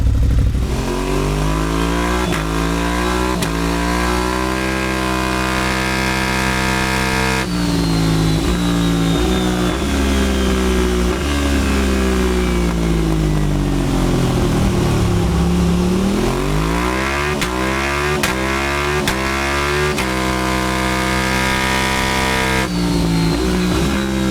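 A modified 2026 motorcycle engine, running without a tune, revs repeatedly on a dyno, loud and close, with rising and falling engine pitch through repeated throttle sweeps and no talking.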